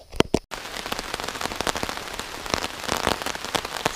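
Heavy rain pours down outdoors on a hot day, a dense crackling patter of drops hitting surfaces, loud and close, continuous after a brief clatter at the start.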